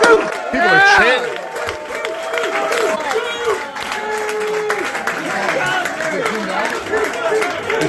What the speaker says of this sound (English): People are chanting.